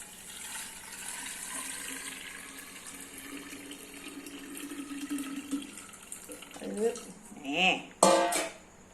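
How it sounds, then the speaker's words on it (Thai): Cooled, boiled salt brine is poured into a jar over tamarind pods, giving a steady watery gush that swells and gurgles louder near the end as a voice briefly cuts in. "น้ำเกลือที่เราต้มไว้ เย็นเราด้วย เทลงไปเลย"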